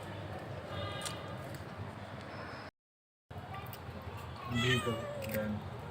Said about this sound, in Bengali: এখানে একটা বিলাই, এখানে আরেকটা বিলাই